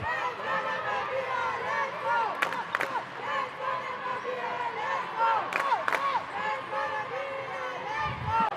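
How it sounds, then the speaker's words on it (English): Crowd at the MTC Dome cheering during a Namibia versus South Africa women's match, a continuous roar of voices with whoops and shouts rising at moments, commentary talk running over it. "Great crowd here at the MTC Dome, really trying to get behind their team and raise the roof."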